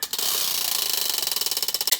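Tickle roulette prize wheel spinning, a rapid run of close, loud ratcheting clicks that gradually slows and spaces out as the wheel loses speed, no voices.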